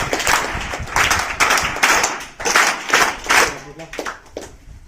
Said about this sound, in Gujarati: બધા 3 વખત તાળી આપીને બધા જોરદાર